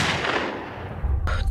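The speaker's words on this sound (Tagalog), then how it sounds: "tunog ng putok ng barela sa loob ng kuweba" A gunshot sound effect echoing inside a cave, heard as a loud decaying boom with a sharp crack near the end, and no speech.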